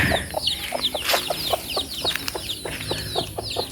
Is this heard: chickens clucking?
yes